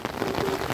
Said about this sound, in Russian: Опять дожди, мы бегаем под дождем.